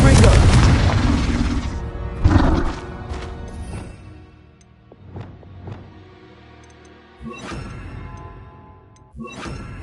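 Explosive Confringo spell blasts in the Hogwarts Legacy video game: a heavy booming burst at the start, another crash around two seconds, then sharper impacts and bursts later, with a voice heard over parts of it.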